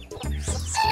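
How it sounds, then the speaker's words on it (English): A mother hen clucks a few times in quick, close succession, short throaty calls standing alone without talk. "I don't think there's room for you underneath this chicken, Robi."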